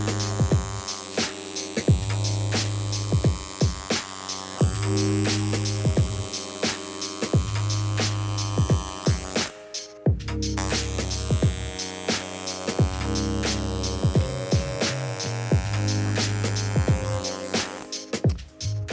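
A tattoo machine buzzes close up in a steady electric hum with a throbbing edge. It runs almost continuously, with one brief cutoff near the middle before it starts again, and no one talks.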